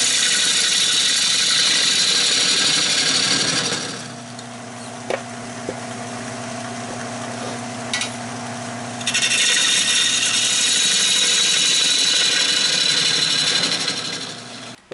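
A wood lathe spins a cherry wood bowl at 700 RPM, a loud, close, continuous scraping and rubbing of the cutting tool on wood. The cut eases off to a softer motor hum midway, then the cutting resumes.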